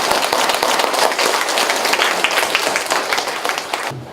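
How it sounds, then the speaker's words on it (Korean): An audience at a Buddhist academic seminar gives dense, lively applause to welcome the presenters, with many crisp overlapping claps that carry on steadily before tapering at the close. "박수로 맞아주시기 바랍니다."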